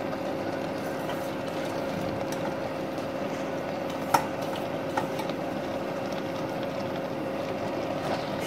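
Chopped chukka bhaji greens simmer in a pan, giving a steady soft hiss with a few faint scrapes and clicks of stirring throughout.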